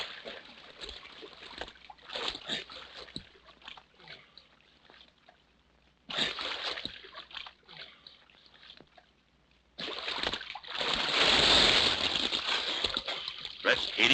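Water splashes and sloshes in a swamp as a man is ducked under, coming in rough bursts with quieter gaps and a long heavy surge near the end, close by.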